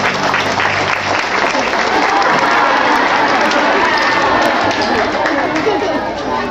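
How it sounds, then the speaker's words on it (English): A crowd at a sea lion show in Subic Bay, Philippines, applauds and cheers loudly and steadily, with chatter mixed into the sustained clapping. "How about a round of applause for that great imitation?"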